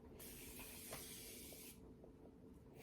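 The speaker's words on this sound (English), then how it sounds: "It's a nice setting spray." A makeup setting spray releases one steady hissing mist burst of about a second and a half, close and clear, then stops, leaving quiet room tone.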